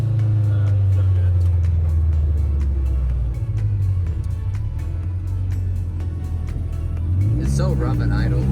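A 1996 Acura Integra with a straight pipe exhaust and aftermarket motor mounts idles roughly, giving a loud, steady low drone with pulsing ticks, while people talk over it throughout.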